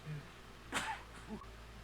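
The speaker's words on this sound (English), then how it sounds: "I have to apologize for all the coughing and sniffling and stuffy nose and sneezing and whatnot" A single sharp sneeze from a person with a cold, brief and fairly close, followed by a softer throat sound in an otherwise quiet room.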